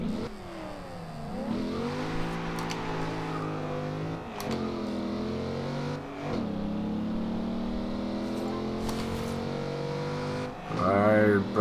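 A 2014 Chevrolet Camaro Z28 in Forza Horizon 2 accelerates hard in a straight line, its engine revving up through several gear changes with rising and dropping pitch, loud and close throughout.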